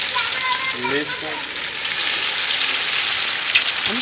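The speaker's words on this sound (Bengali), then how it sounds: "আমি আগে বড় বড় দেখে মাছগুলো ভাজি নিচ্ছি" Large pieces of fish fry in hot oil, giving a loud, close, steady crackling sizzle throughout, with a faint voice briefly underneath.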